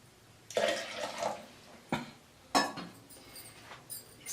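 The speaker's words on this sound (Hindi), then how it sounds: "और हमने इसमें आधा किलो पानी डालना है।" Water poured into a blended yogurt and gram flour mixture while making kadhi, heard as several splashy bursts of pouring with short pauses between them and no talking.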